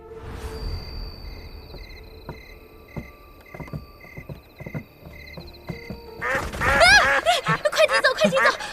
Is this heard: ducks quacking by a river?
yes